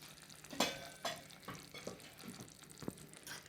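Tamarind rice (pulihora) is stirred in a frying pan over high heat, with soft scraping spoon strokes and clinks at irregular intervals over a faint background sizzle, close by and without talk.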